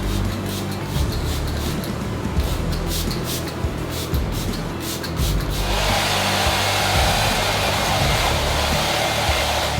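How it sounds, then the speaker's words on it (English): A hair dryer blows on hair dampened with sea salt spray, a steady close whoosh under brushing and rustling noises, turning to a broader, louder rush partway through. "spray some sea salt spray it, and then blow dry it"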